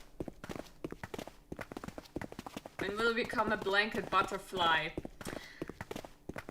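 Soft, steady footsteps from the game 999: Nine Hours, Nine Persons tap at an even walking pace throughout, continuing under a stretch of speech in the middle.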